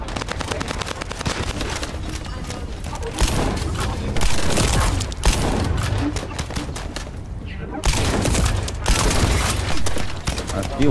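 Shotgun fire in The First Descendant blasts loud and rapid, shot after shot in dense bursts with a brief lull partway through, while a voice talks over the gunfire.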